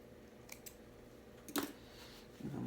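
Small scissors snipping loose thread while finishing a handmade car trash bag, a few light, close clicks spread out across near quiet, with one sharper snip midway.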